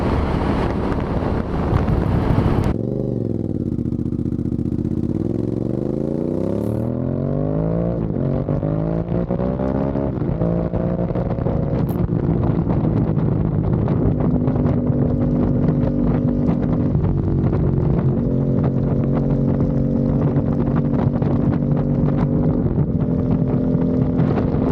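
A big Honda SP1 V-twin motorcycle engine heard while riding, a steady loud droning rumble that rises and falls through gear changes under heavy wind noise, with no talking.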